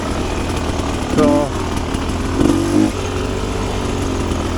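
A Rieju Ranger 300 motorcycle fitted with an FMF Gnarly exhaust pipe idles loudly up close, with two short throttle blips rising and falling over a constant rumbling base.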